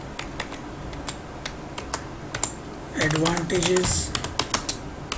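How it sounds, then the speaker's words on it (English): Computer keyboard keys tapped in short bursts, a quick flurry of clicks mid-clip amid sparse scattered keystrokes, with a voice speaking faintly underneath. "let me type the heading"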